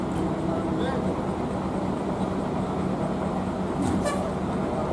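The PO Haryanto HR 202 Aisyah single-glass bus sounds short horn toots before departure, ringing over a steady engine rumble and background voices.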